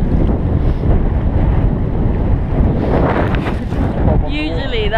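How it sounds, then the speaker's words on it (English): Strong gusting wind roars steadily across the microphone beside a choppy lake, with a dense, constant rumble and the rush of rough water, and a brief voice near the end. "Today is so windy."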